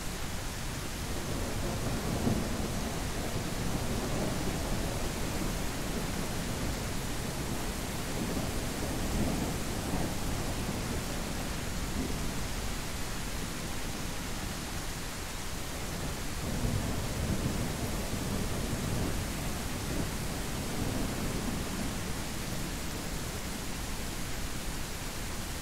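Steady rain pours throughout the Mist Survival thunderstorm in this game scene, with a deep rumble of thunder rolling underneath. The downpour stays constant and fairly loud, and no one talks over it.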